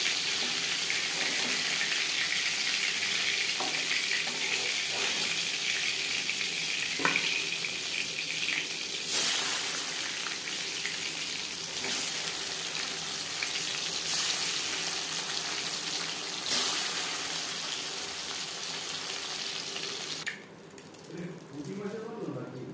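Hilsa fish pieces frying in hot oil in a home kitchen, a steady hissing sizzle that carries on for a long stretch and drops off near the end.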